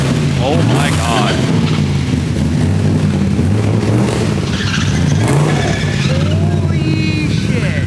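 LS V8-swapped BMW E46 revving hard on a dyno, a loud, continuous roar with rising and falling pitch sweeps throughout, close to the car, with excited voices underneath.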